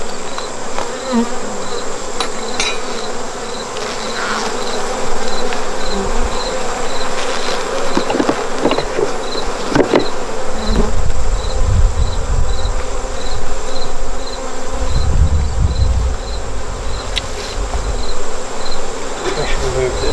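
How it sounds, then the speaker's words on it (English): Bees buzz in the air around nuc hives, where smoke drifts by the entrances. A dense, continuous hum of many insects stays close and loud, with deeper swells of wing noise passing near. "That's what's making half the bees in the air."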